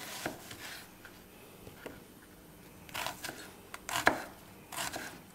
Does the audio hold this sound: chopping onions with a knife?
yes